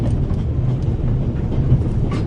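A train rolls along in the game The Raven, with a steady low rumble and faint rhythmic rattling of the carriage, continuous and enclosed, with no voices.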